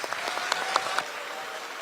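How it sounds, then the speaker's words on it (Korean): Applause at a political party meeting: a short run of distinct hand claps rings out in a hall and then fades into a softer room murmur. "이어서 김승원 경기도당 위원장의 발언을 큰 박수로 청하겠습니다."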